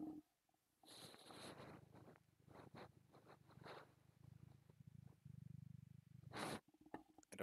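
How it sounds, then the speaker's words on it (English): A cat purring close by, a low continuous rumble broken by brief rustling and fabric-like scratches, with a sharp higher burst near the end. "Try to get some kitty purrs."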